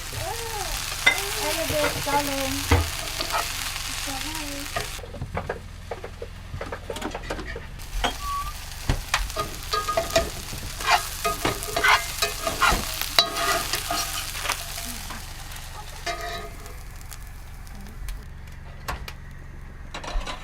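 Potatoes fry and sizzle in a pan in a bus kitchen, a steady crackling hiss broken by repeated scraping and stirring clatters from a utensil, close and fairly loud, with no speech.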